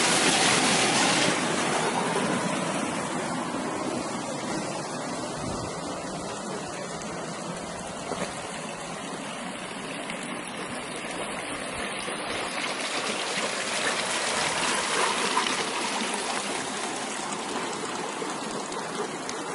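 Steady rushing of stream water at dawn in Ausserberg, continuous broadband flow close by, with no voices.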